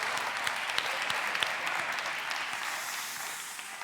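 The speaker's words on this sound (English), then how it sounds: "Give them all a round of applause." A group applauding together after a children's activity, a continuous, even patter of many hands clapping at moderate loudness, easing off slightly near the end.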